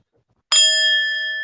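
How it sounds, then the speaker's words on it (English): A single gong sound effect is struck once, then rings on with a bright, sustained metallic tone that fades only slightly, heard alone. "Let me give him the nerd gong."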